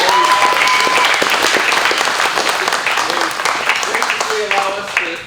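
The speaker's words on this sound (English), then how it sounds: "Let's say another round of applause for the VLT." Loud, steady applause from an audience at an awards-night gathering in a room, sustained for several seconds and tapering slightly near the end, with a few voices faintly mixed in.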